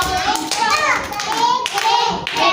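Children clap their hands twice in short bursts while young voices chatter around them.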